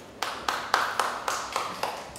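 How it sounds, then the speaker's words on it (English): Sparse applause from a small English class, about eight light separate claps in an even rhythm, fairly faint in a quiet room. "Okay, give applause."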